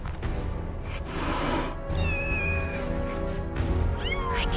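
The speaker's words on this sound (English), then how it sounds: "kittens?" Kittens mew in a video game, several thin, rising and falling meows in quick succession over a steady background hum, with no talk.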